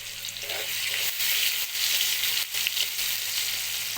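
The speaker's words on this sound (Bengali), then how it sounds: "তেল গরম হয়ে গেছে এবার আলুটা ভেজে নেব" Cut potatoes with salt and turmeric frying in hot oil, a steady close crackling sizzle that stays loud and even throughout.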